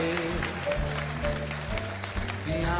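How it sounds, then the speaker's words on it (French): A game show studio audience applauds, a short burst of clapping mixed with music and crowd noise, at moderate level. "Je voudrais qu'on applaudisse Vincent une fois de plus"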